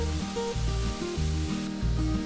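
Tomato puree hits a hot pan of fried masala, giving a continuous close sizzle under a louder repeating musical backing with no talk.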